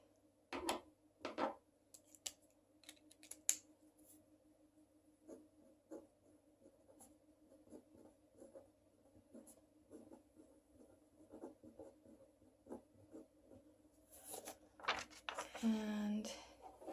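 A pen scratches across paper in short, irregular strokes and taps, faint and close, over a low steady hum, with a brief voice near the end.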